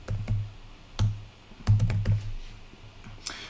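Computer keyboard typing, a few quick clusters of soft key clicks separated by short pauses, close and fairly quiet.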